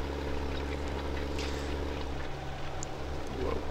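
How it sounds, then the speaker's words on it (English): In Farming Simulator 17, a tractor straining to pull a cultivator gives a steady, heavy, low engine drone that runs unbroken throughout. "Definitely tell this tractor's pulling hard for this cultivator, but it's doing a very good job."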